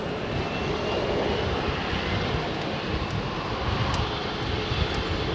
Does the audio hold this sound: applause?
no